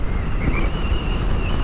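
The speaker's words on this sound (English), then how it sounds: "and a bit windy as well." Strong wind buffets and rumbles steadily, loud and close, with a faint whistling tone above the low roar.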